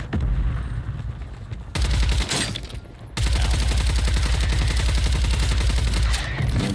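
Close-range gunfire from Call of Duty Warzone erupts in loud, dense automatic bursts, broken by a brief lull before a sustained barrage of rapid shots continues to the end.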